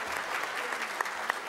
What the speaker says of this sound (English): So we'd appreciate a round of applause for these lovely ladies and hardworking gentlemen.